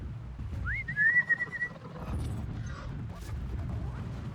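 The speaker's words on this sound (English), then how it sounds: "See how we whistled together?" A whistle in the video game Horizon Zero Dawn, a short rising then steady tone under soft game ambience with a faint bird-like call.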